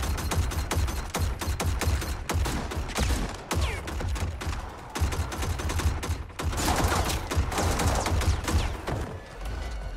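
Guns with infinite ammo firing in the Mortal Kombat 11 video game: loud, close, rapid shots in long bursts, with a steady rhythm of cracks and thuds and only short pauses.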